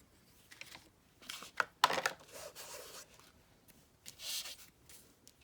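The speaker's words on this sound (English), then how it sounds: "Let's cut a piece, or just rip a piece off from this." Paper ripped by hand while making grungy junk-journal tags: several soft, scratchy tearing bursts, close but fairly quiet, with pauses between them and no talking.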